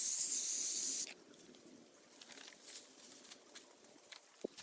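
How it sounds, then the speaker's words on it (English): A loud can of spray adhesive hisses for about a second up close onto a large Easter bunny decoration, then stops, leaving quiet rustling. "just use some spray adhesive all over the bunny"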